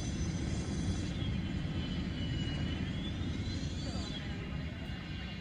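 Airliner engines roar steadily through a takeoff run in the Airline Commander flight game, the A310's broad rumble constant and loud, with a faint rising whine near the end.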